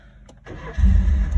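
A Nissan R31 engine cranks over and catches: a few faint starter clicks, then a loud, rough roar that comes up close and holds steady, with no talk over it.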